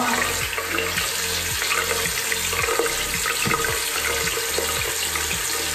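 Lukewarm tap water runs steadily into a sink to soften a dried face mask, a constant close splashing hiss with a faint rhythmic pulsing underneath and no speech.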